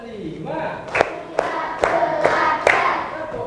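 Children in a classroom clap along to a counting chant, five sharp claps spaced roughly half a second apart, mixed with a group of voices chanting in rhythm.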